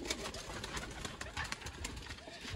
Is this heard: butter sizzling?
no